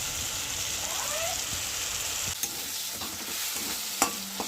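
Spice paste fried and stirred in a pan for a fish kofta curry makes a dense, even sizzle close by, with scraping strokes and a couple of sharp knocks of the utensil on the pan.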